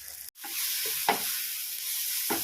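Spices such as turmeric, chili powder, cumin and chaat masala are stirred in a sizzling pan for an Assamese-style pumpkin curry, with a few distinct scraping strokes over a steady close frying hiss.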